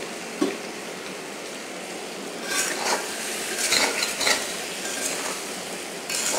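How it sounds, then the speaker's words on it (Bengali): Okra and potato curry being stirred in a pan after the lid comes off: a soft, constant background hiss, then a run of scraping, clattering spoon strokes against the metal, close by and with no talk. "আমি ঢাকনাটা খুলে নেড়ে দেব।"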